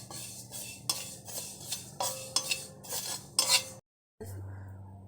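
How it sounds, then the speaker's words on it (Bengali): Black cumin seeds being lightly roasted in a dry pan, a spatula scraping and tapping the metal in a series of short rasping strokes, close by, with a brief silence near the end. "খোলা কালো জিরাটা হালকা ভাজিয়ে নিব"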